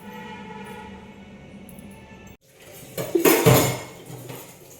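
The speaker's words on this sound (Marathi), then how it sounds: "कढई गरम करायला ठेवूया" A metal wok clanks down onto a stovetop with a couple of close, ringing knocks, followed by faint kitchen rustling.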